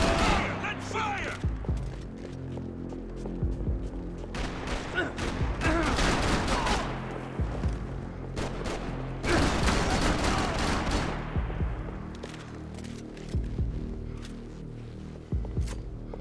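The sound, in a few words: gunfire in the video game Max Payne 3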